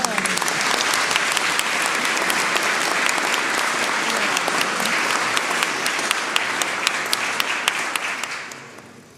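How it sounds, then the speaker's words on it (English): Roaring applause from an audience of avid listeners, dense and loud, sustained for several seconds before fading at the end. "his audience of avid listeners broke out into a roaring applause"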